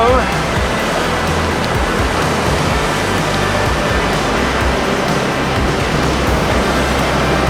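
Big ocean swell breaking at Jeffreys Bay, a loud, continuous roar of surf and rushing whitewater washing up the beach, steady and dense throughout with no clear individual wave breaks.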